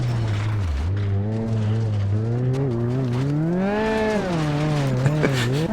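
A car engine on a rutted safari rally stage revs hard, its pitch sweeping up and down and climbing to maximum revs as the wheels spin when stuck, loud and continuous throughout.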